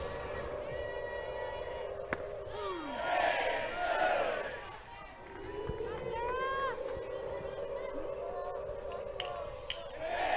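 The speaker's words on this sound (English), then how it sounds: "Crowd all fired up." A crowd at a college softball game, Arkansas against Kentucky, cheers and yells in swelling bursts, loud and massed, while a commentator talks over it.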